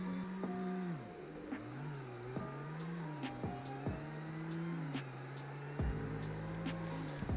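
A Volvo XC90 SUV accelerating hard in a 0-60 test, a steady engine drone rising and falling in pitch through gear shifts, close and continuous with cabin rumble, with no talk.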